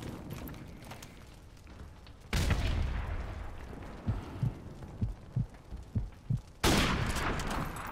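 Sniper gunfire in a first-person shooter 1v1 match: two loud bursts of shots bracket a run of five or six quick, sharp cracks spaced evenly between them, over steady game background noise.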